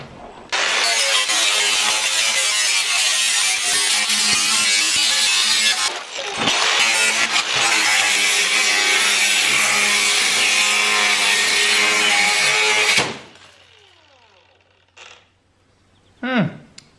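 An angle grinder cuts lengthwise down a corrugation of a corrugated metal sheet for a dog house, giving a loud, harsh, continuous screech for about twelve seconds that then spins down, followed by a few faint clanks.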